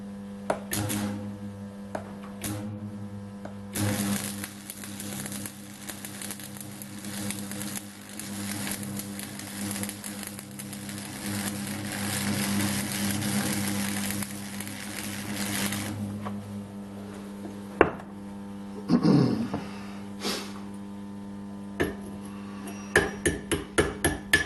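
Stick welding with 2.5 mm rods at around 100 amps, a long crackling, sizzling arc that runs steadily for about fifteen seconds, then a few sharp knocks and chipping taps on the workpiece.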